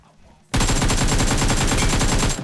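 Rapid automatic gunfire in the battle-royale game PUBG Mobile, on the Nusa map: a loud, steady burst of evenly spaced shots that starts abruptly and runs about two seconds, close and dominant.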